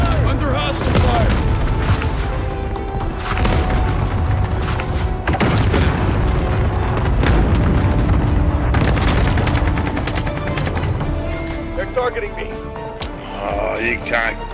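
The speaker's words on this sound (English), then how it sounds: "Under hostile fire." Constant gunfire and explosions from the video game Call of Duty: Modern Warfare, dense and loud throughout, with game voice lines and in-game chatter mixed over the combat.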